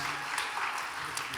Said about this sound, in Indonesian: boleh saya minta tepuk tangan dari teman-teman wartawan untuk ketua-ketua bidang Komite Festival Film Indonesia